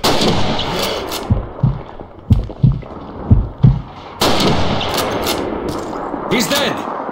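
Sniper rifle gunshots in the Call of Duty 2 Soviet campaign crack out as a series of sharp reports spaced about a second apart, mixed with battle noise and bursts of game dialogue.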